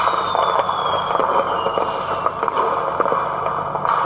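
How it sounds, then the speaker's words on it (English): Fireworks in the video game Five Nights At The Wiggle House 2 after a night is beaten, loud crackling bursts and pops scattered over a steady whooshing bed, with a thin whistling tone sliding down, no talking. "Yeah, fireworks. I love the fireworks."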